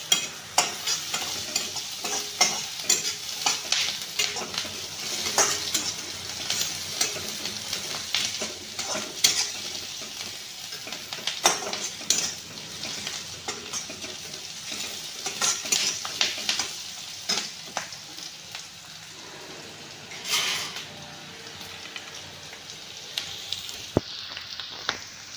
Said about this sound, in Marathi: आपला कांदा छान आता लालसर झालेला आहे। थोडा आपण मिरची टाकून घ्यायची थोडीशी